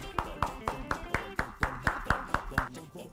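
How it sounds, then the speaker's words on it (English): Several people clap their hands together in an even, steady rhythm, about a dozen sharp claps, close and clear with a little talk in the background. "Everybody clap your hands."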